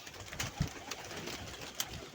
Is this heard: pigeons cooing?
yes